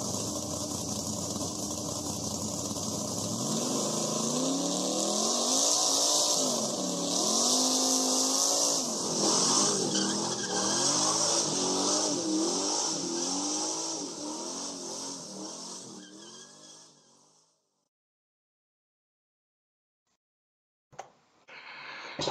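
Race car engines at a NASCAR Daytona 500 start rev and roar loudly for about seventeen seconds, pitch rising and falling in waves, then cut to silence before a brief burst returns at the end.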